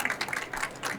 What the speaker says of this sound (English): Let's give a round of applause to our panelists and to Dell